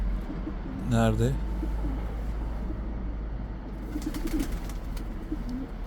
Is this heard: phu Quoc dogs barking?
no